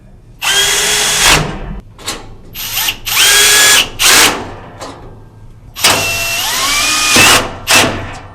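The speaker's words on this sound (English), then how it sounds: "Both are installed in the rack using just 4 screws." A power drill drives screws to mount a HyperReach fiber panel into a rack, several loud whirring bursts that rise in pitch and stop abruptly, separated by short pauses, close and without speech.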